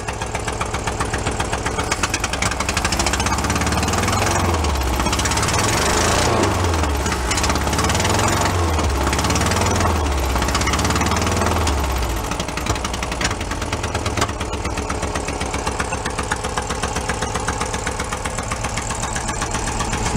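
An abandoned Porsche 914 station wagon engine runs steadily up close, a loud, rough idle with a continuous mechanical drone and knocking pulse throughout, with no talking.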